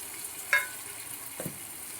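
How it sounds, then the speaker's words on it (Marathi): Eggs frying in masala give a soft, quiet sizzle close by, with a sharp clink of a utensil against the pan near the start and a brief stirring scrape a moment later. "मी अंडे ह्याच्यामध्ये मसाल्यामध्ये घालून मस्त हे बघा फ्राय करून घेतले छानपैकी"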